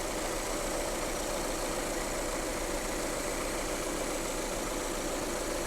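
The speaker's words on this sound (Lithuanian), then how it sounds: "Na ir štai mūsų žymusis Subaru e-Boxer variklis." The Subaru e-Boxer engine of a 2024 Subaru Crosstrek idles with a steady, even hum and faint vibration, heard alone without talk.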